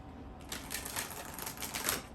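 A deck of stiff oracle cards being shuffled, heard as a quick run of crisp flicking, riffling clicks up close and fairly quiet for about two seconds.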